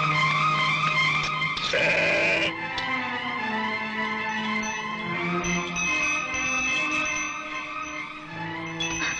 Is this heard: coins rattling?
no